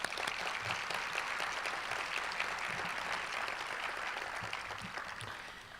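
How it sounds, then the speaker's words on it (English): Continuous applause fills a lunch session at the 2015 Iowa STEM Summit, a broad wash of many hands clapping at a moderate distance, steady and tapering slightly toward the end. "Let's give him another round of applause, please."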